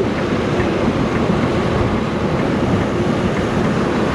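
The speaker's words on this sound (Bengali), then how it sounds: "তো দেখো ট্রেন যাচ্ছে, ট্রেন।" A train rolls past near a road during a motorbike group ride from Kolkata, making a steady, loud, broadband rumble and roar with no pauses and no speech.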